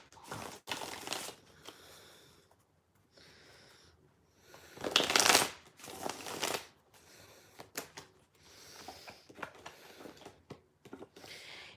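Tarot cards being shuffled by hand in quick riffling bursts separated by short pauses, close and fairly quiet.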